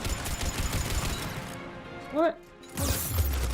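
Gunfire in the video game Mass Effect 3 crackles in rapid bursts under a man's speech, followed by a sudden hush with a rising whistling tone, then noisy combat sounds return.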